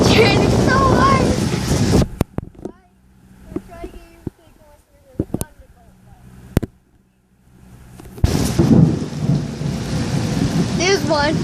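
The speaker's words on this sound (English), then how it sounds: "It's raining so hard." Heavy rain pours down in a thunderstorm, loud sheets of rain at the start and again near the end, with sharp thunder cracks and rumbles in the quieter middle stretch.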